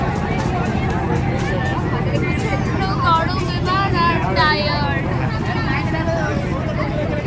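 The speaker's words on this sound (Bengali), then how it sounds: "প্রচণ্ড লোকের ভিড়।" A large, packed crowd on a ferry launch crossing the river from Nabadwip ghat toward Mayapur ghat: dense, continuous babble of many voices under a steady engine and water rumble, close and loud throughout.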